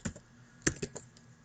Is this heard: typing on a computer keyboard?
yes